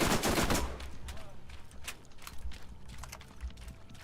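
Rapid SMG gunfire in Borderlands, with bursts of sharp cracks in quick succession, loud at the start and then continuing in scattered shots and impacts.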